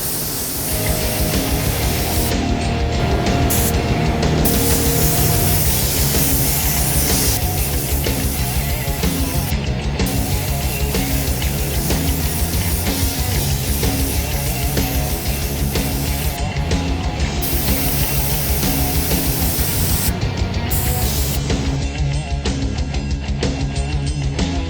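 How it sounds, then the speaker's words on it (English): Steady, loud hiss of spray paint being applied to an electric guitar headstock, continuing almost unbroken for the whole stretch with only slight shifts in intensity, no talking. "we're gonna go ahead and start spraying on the headstock first,"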